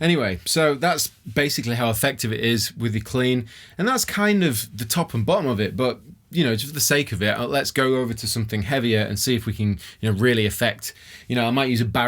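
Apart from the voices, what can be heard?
None of the usual background noises is heard.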